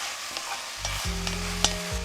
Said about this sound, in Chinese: 加胡萝卜，炒1分半，让胡萝卜吸收锅里的油。